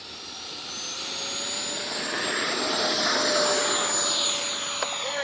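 A Freewing 90mm T-45 Goshawk electric ducted-fan RC jet takes off from a runway, its high-pitched whine swelling steadily louder as it accelerates and climbs, heard alone without talk.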